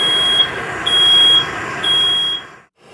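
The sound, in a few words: smoke alarm beeping during pipe soldering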